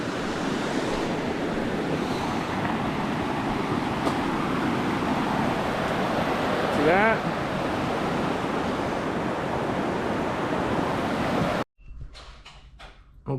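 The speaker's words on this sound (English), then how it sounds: "One more quick little view of the river." A river flows on Vancouver Island, its steady broadband rush filling the scene with wind buffeting the microphone, then cutting abruptly to quiet near the end where a voice briefly speaks.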